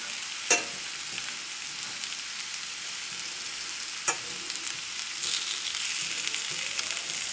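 Thick-cut potatoes fry and brown in a pan with a steady, close hiss of sizzling oil, broken by a couple of sharp scrapes or taps as they are stirred.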